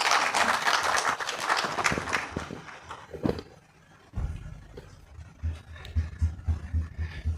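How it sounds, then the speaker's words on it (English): Audience at a technical consultative workshop on declining crude oil production applauds for a speaker, a burst of dense clapping that tapers off, followed by quieter room noise and thumps. "Let's clap for Dr. Thomas Menu."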